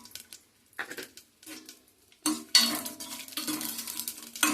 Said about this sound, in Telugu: నెయ్యి వేసుకుని డ్రై ఫ్రూట్ చేయించుకుందాం అండి